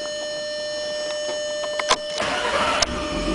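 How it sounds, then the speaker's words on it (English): A Volkswagen R32 with a stage 3 tuned engine cranks and fires up without throttle, a brief starter whine and click followed by the broadband rise of the engine catching and idling, close by. "You can see I'm not touching the gas pedal to fire up the car."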